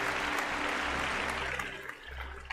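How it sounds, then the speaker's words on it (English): A studio audience gives a round of applause, dense steady clapping that fills the whole moment and thins slightly toward the end. "give Phil a big round of applause"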